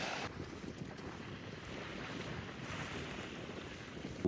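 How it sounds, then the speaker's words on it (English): Wind gusts at a beach in Grimsby, a steady broadband roar of wind buffeting the microphone with faint surf beneath, continuous and loud throughout with no voices. "that's windy"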